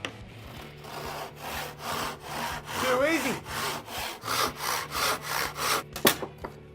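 A hand saw cuts through a length of timber held against a block on a dining room table, a close, steady rhythm of back-and-forth strokes, about a dozen rasping passes with a brief pause midway, heard alone.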